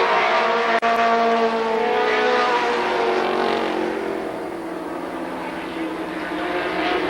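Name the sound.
race cars at Columbus Motor Speedway, V6 Camaro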